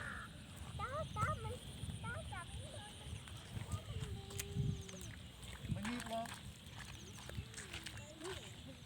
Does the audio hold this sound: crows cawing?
yes